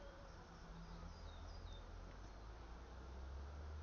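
Dark honeybees buzzing during a beehive inspection, a faint, steady drone with a few individual bees passing close, low background hum throughout and no talk.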